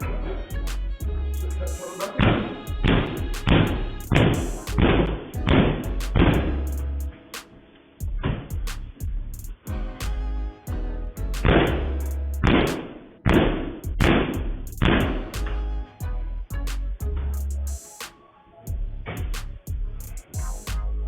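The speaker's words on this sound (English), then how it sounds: "Jim Jones is literally trying to kick the door down." A door being kicked repeatedly during an eviction, heard as bursts of heavy, loud thuds and bangs in rapid clusters, with short pauses between volleys and no talking.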